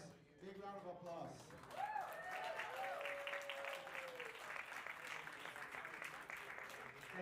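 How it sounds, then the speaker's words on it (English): Audience applause at a policy forum in Washington, D.C., a sustained burst of clapping from a crowd that holds steady for several seconds, with a voice speaking over its start. "Please, big round of applause."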